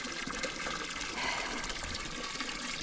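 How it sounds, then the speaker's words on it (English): Water running and splashing as drinkers are refilled for rabbits, a steady close trickling pour lasting throughout, no talking. "I need to refill you guys' water"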